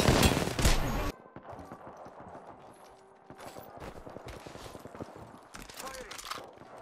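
Gunfire from Apex Legends opens with a loud, dense burst, then drops to quieter, scattered shots and distant crackling, with a voice talking over it.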